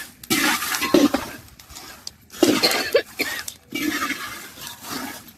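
Dried chilies roast in a little oil in a pan for a homemade black spice masala, producing bursts of crackling sizzle as they are tossed, separated by short quiet gaps, close and fairly loud.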